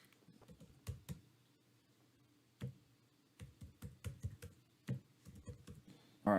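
Close, quiet typing on a computer keyboard, with sparse irregular bursts of keystrokes and short pauses between them, alone without voices.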